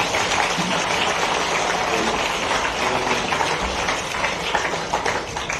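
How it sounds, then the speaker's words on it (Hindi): An audience at a ceremony in Bhopal honoring Kranti Gaud breaks into dense, sustained clapping that holds steady throughout before tapering slightly at the close. "तो क्रांति के लिए ताली बजाएं।"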